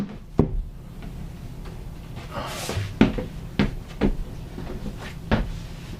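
A primed wooden door is handled and fitted into place in a doorway aboard a catamaran, with a series of sharp knocks and thumps at irregular intervals, close and fairly loud, plus a brief scraping rustle.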